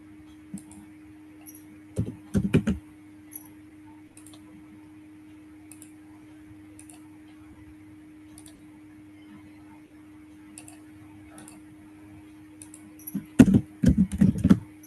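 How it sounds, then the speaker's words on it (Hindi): Keys clatter on a computer keyboard in two short bursts, one early and one near the end, over a steady low electrical hum in an otherwise quiet room. "टाइप करो इसके अंदर जाके।"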